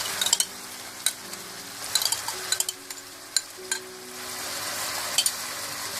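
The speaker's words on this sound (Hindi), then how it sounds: "और अच्छी तरह से मिला लें।" Soy sauce, white vinegar and chilli garlic sauce are stirred into chilli chicken in a pan, with a steady sizzle under repeated scraping and clinking of a spoon against the metal, close and busy.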